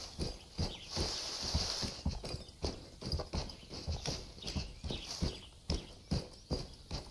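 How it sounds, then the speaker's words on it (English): Steady hoof-like video game footsteps clop along at a walking pace on dirt, a deep thud paired with lighter human scuffs on each step, slightly out of sync, with no talking. "It's like I'm walking as a human and a horse at the same time."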